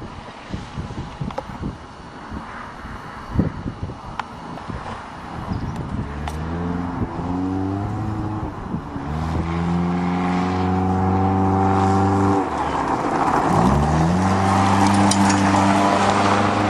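A 1992 Toyota Corolla drives on farm grass. The engine revs up and down in repeated rising and falling sweeps, close and loud, with gusty wind buffeting the microphone and no one speaking.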